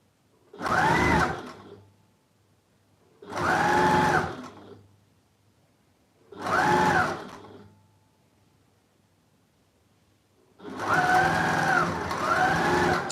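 Sewing machine joining charity quilt squares, four separate bursts of fast stitching, each a second or two long with quiet gaps between, the last burst longer, close by and alone.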